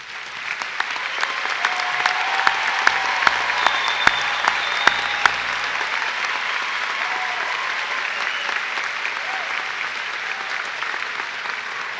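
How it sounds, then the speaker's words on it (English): A high school graduation audience applauds honor students standing for recognition, steady crowd clapping throughout with a few sharp, close claps standing out. "Join me in a round of applause for these students."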